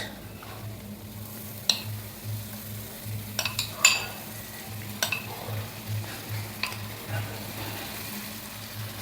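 Spice masala with coriander powder, garam masala, mace powder and tomato puree is stirred and fried in a pan, giving a steady soft sizzle with scattered spoon scrapes and clicks against the metal, with no speech.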